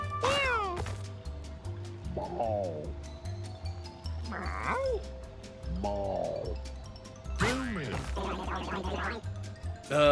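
Several cartoonish cat meows from the video game Mewgenics, each a short, rising-and-falling cry, sound one after another over steady background game music, with no one talking.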